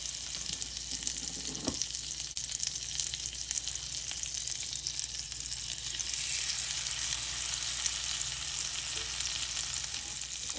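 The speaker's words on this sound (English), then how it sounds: "we're going to add our fillets to our skillet. And you can hear that sizzling." Fish fillets sizzle and fry in hot oil in a heated skillet, a steady, continuous crackling hiss that holds for the whole stretch with no talking.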